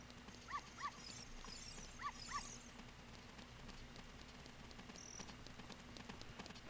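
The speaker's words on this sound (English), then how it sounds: "Is the other dog still following me?" A dog following the player in the Ocarina of Time video game gives faint, brief yelps in quick pairs, repeated twice over quiet in-game background ambience.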